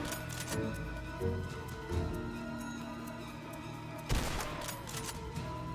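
Gunfire from a bolt rifle against zombies in the Roblox game Dead Rails, a few sharp shots at irregular intervals, the loudest near the end, over a steady din of game sound and music.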